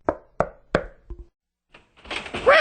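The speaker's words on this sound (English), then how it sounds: "He knocked on her door." Three firm knocks on a wooden door land in a quick even rhythm, then a faint tap, a pause and a voice starting to speak.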